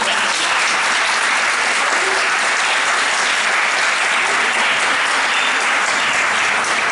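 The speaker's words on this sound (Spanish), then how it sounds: "Un aplauso por favor y muchas gracias." A conference audience at a women-and-economics event applauds loudly and steadily, a dense even wash of clapping heard alone throughout.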